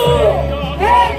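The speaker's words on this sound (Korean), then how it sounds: "양주 시민 여러분들의 승리의 함성을 부탁드립니다." A crowd roars and whoops at an outdoor presidential campaign rally in Yangju, the loud sustained cheering swelling in waves with voices and babble mixed in.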